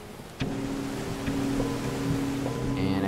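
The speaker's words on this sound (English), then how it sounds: "Ooh, waterfalls." Waterfalls in the video game Teslagrad give a steady rushing roar of water, joined by brief tonal game sounds and chimes over the top.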